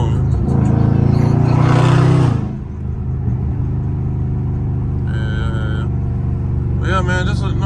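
A Dodge Scat Pack weaves through busy traffic, its engine loud and close with a strong revving surge that eases to a steady cruising rumble while people talk over it.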